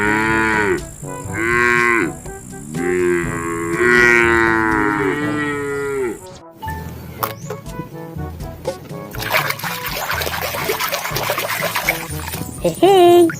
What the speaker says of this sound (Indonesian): Wow, ada sapi peras.